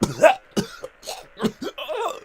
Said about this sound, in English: That was an actual cough for you.